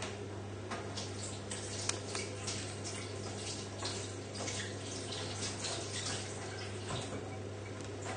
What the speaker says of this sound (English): So just go and wash your hands.